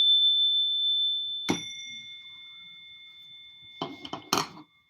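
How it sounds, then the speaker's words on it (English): A suggestion bell gives a bright metallic ring whose clear tones hang and slowly fade, followed later by a few quick clinks and a second strike, heard close in an otherwise quiet room. "It's a suggestion bell"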